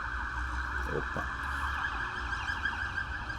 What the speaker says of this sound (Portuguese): Ambulância, polícia.